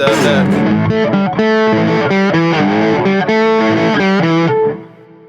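Lap steel guitar in open D tuning plays a riff through a distorted amp, loud sliding notes and chords in a quick rhythmic phrase that rings out and cuts off near the end.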